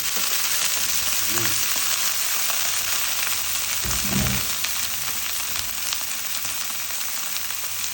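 Bean sprouts and tofu stir-fry in a hot pan with a steady, loud, close sizzle and crackle throughout, broken by a couple of brief scraping stirs.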